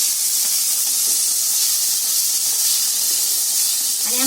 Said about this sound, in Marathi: आता याच्यामध्ये थोडंसं मी तेल टाकते भाजायला